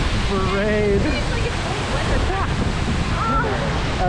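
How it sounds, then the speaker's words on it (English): An Adirondacks waterfall pours and sprays in a steady, loud broadband roar close by, with a person speaking over the rushing water. "That might be the coolest waterfall I've ever seen."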